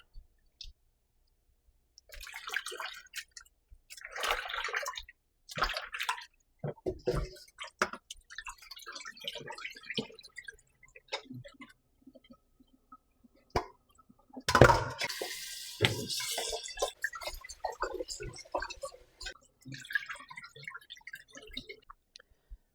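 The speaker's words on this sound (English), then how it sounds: "now I'm going to wash the shrimp" Water splashing and sloshing in a bowl or sink as shrimp are washed in lime water, with clicks and handling noises, intermittent and fairly quiet, one louder splash midway.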